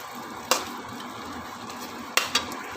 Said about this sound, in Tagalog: Nilagay na natin ang ating tokwa. Mix lang natin yan.